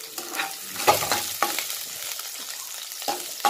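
Chopped onion and green chilli crackle in a hot pan, with soft scraping stirs and a few sharper clinks of a utensil against the pan at irregular intervals. The sound is close and moderately quiet, with no talking.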